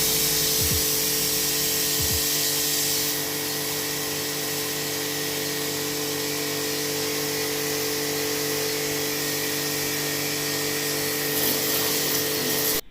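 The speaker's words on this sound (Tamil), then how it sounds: "இந்த தண்ணியோட ஃபோர்ஸ் எவ்வளவு இருக்குன்னு காமிக்கிறேன் பாருங்க" A Texum TX 50D high-pressure washer blasts a water jet in a loud, continuous hiss with a steady motor hum underneath, unbroken for the whole stretch and heard alone.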